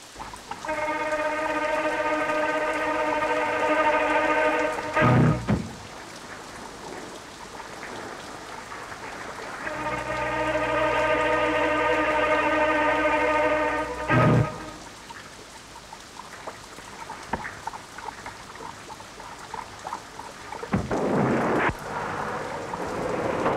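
Steady rain pours down through a stormy night, with a low rumble of thunder and a few sharp cracks. The downpour carries on under sustained musical tones.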